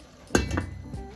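A lid is set down on a cooking pot of rice, producing a short metallic clink and rattle that rings briefly, then settles.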